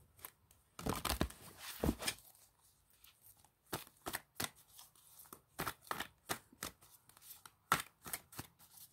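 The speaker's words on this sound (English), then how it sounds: "Just shuffle up your cards" Tarot cards being shuffled by hand, a few brisk riffling bursts followed by a run of quick, soft slaps and flicks at an uneven rhythm, close and fairly quiet.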